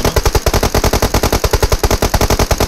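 Rapid automatic gunfire rings out in PUBG Mobile, a loud, evenly spaced burst of around two dozen shots fired in quick succession close to the listener, with no talk over it.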